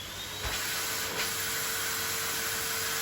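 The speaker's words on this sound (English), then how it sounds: "Let's see what the blower's like on this" The blower on a 2020 Numatic Tradeline TEM390a industrial vacuum extractor makes a steady, close rushing hiss with a faint high whine. There are a couple of soft knocks near the start.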